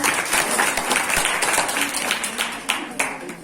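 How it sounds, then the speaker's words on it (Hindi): A hall audience claps loudly for Team A at a quiz result announcement during an Indian Independence Day 75th-anniversary celebration, a busy patter of hands that thins into a few scattered, distinct claps at the end. "टीम ए के लिए जोरदार तालियां"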